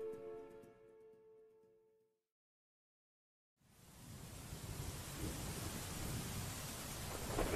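Thunderstorm with heavy rain at sea, about ten miles off the Whitby coast, as a drama sound effect; after a brief low tone and silence, a dense wash of rain and rumbling swells up and stays loud to the end.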